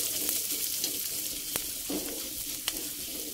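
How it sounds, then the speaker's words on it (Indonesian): Onions sizzle gently as they are stirred in a pan for an oyster-sauce chicken liver and gizzard dish, a soft, steady frying hiss with occasional clicks of a utensil scraping the pan. "Tumis bawang bombaynya hingga layu."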